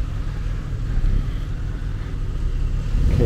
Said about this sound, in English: Chaotic traffic.